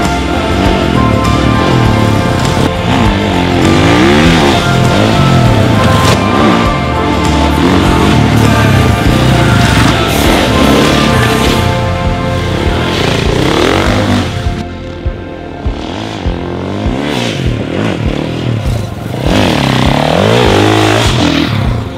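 KTM 500EXC dual sport dirt bike fitted with an FMF RCT 4.1 slip-on muffler and GET ECU, engine revving loud and close in sustained throttle blips with rising and falling pitch, briefly easing off before revving again.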